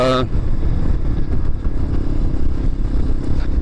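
A motorcycle riding along a road, its engine a steady close rumble with wind noise throughout, after a brief tonal sound at the very start.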